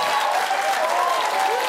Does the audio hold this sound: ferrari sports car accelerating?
no